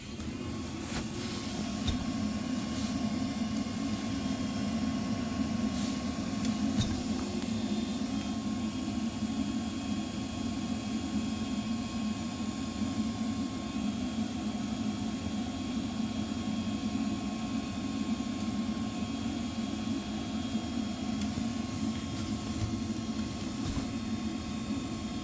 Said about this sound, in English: we're just gonna go through the purge process, and then we're going to see what's going on with this boiler